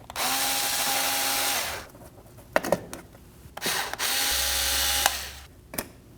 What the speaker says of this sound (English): Next up, we're gonna take the screw out. Using the same tool, go ahead and take it off.